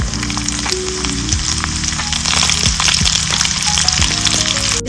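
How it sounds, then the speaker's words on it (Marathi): Fennel seeds and onion dropped into hot oil for a Goan brinjal masala curry, a loud, dense, continuous sizzle of frying heard up close, with no talking. "थोडे तेल घालता, हे घालता। आता बडीशेप घालता, कांदा घालता"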